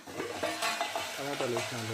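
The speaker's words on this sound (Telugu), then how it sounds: "తాలింపులో టమాటాలు" Tomatoes sizzle in hot tempering oil for a drumstick and tomato curry, a continuous crackling fry with a spoon stirring and scraping through the pan.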